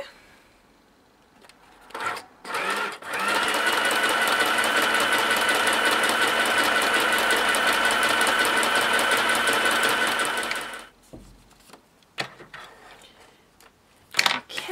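A sewing machine stitches a vintage Vogue sewing card made from cut cardstock in one loud, continuous run of about eight seconds. Scattered handling clicks and thumps come before and after it, with no voices.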